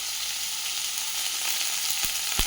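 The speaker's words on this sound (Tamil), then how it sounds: "நல்லா பொன்னிறமாக வர வரைக்கும் வதக்கிடலாம்" Curry leaves and a green chili sautéing in hot oil for goat trotter paya, a steady close sizzle and fry hiss with two short sharp crackles near the end.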